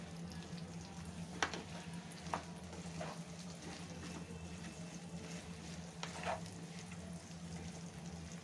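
Okra frying in a pan with turmeric and salt, a steady low sizzle with a few soft scrapes of stirring, fairly faint and close.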